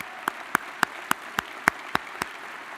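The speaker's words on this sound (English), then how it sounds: "Let's give them a round of applause." Steady, evenly spaced claps from an audience at a military induction ceremony, about eight sharp claps in under three seconds, faint and somewhat distant, with no talk over them.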